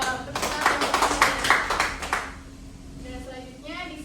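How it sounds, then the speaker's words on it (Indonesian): A classroom of young students claps together for a classmate, a burst of brisk, fairly close hand claps lasting about two seconds, followed by a teacher's voice talking. "Tepuk tangan"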